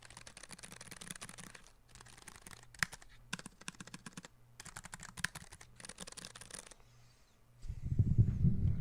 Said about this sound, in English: So now we're going to get into the keyboard sound here really quick.